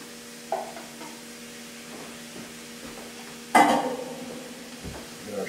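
Shrimp coated in flour and seasonings sizzle in a pan alongside vegetables, a soft steady fry broken by a few utensil scrapes and one louder burst of sizzling as food is stirred or added.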